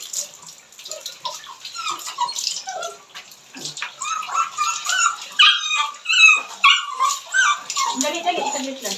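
Several small dogs being bathed in water, with whimpers, splashing and occasional barks close by while people talk over them throughout.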